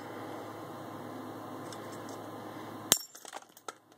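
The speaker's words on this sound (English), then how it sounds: "you could hear that thing shatter" A glass platter from a Seagate hard drive shatters in a trash can, a sudden sharp crack followed by scattered tinkling and clinking of fragments for about a second, after a steady background hum that cuts out.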